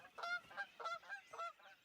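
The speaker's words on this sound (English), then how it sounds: "Canada geese." Canada geese honking in a cartoon, a series of about six nasal, bright honks in an irregular rhythm, fairly close and clear with no talk over them.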